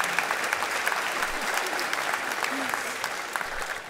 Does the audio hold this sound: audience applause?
yes